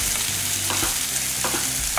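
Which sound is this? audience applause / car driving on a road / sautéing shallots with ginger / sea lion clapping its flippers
sautéing shallots with ginger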